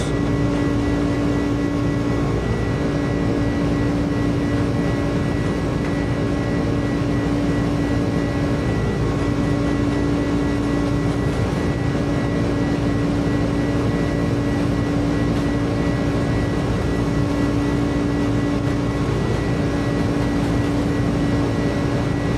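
Sustained steady drone of Airbus airliner engines during a takeoff roll in a flight simulator, a UPS Airbus A300-600RF departing Mumbai, loud and even with a constant tonal hum throughout.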